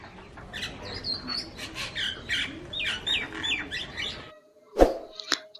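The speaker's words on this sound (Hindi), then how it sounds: "ये है मैना।" Myna bird calling: a busy run of chirps, whistles and squawks for about four seconds, then two sharper isolated calls after a brief pause, fairly close and clear.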